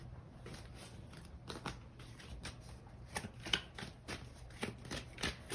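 Playing cards shuffled during a tarot-style card reading, a steady run of soft riffling flutters and crisp card snaps, close and fairly quiet, with no voice.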